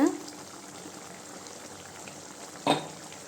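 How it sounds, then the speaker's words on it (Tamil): Egg gravy simmers in a pot, a soft continuous bubbling close by, with brief louder clinks or stirring sounds at the very start and near the end. "நல்லா கொதிக்கட்டுங்க பார்க்கலாம்"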